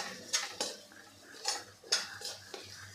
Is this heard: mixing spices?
yes